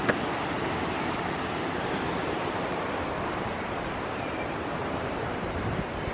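A river flows beside a woodland walk in North Wales, giving a continuous broadband rush of water that stays steady and fairly loud throughout, with no talking.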